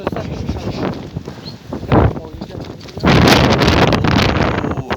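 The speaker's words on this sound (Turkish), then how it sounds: "Çok rüzgar var ya." Strong wind gusts roar against the microphone, rising sharply in a loud sustained blast after a brief calmer stretch.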